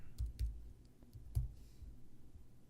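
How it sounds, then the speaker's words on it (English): A few quiet mouse clicks on an on-screen Edit button during an account setup walkthrough, sparse and soft, clustered at the start with another click about a second later, against faint room hiss. "Click Edit."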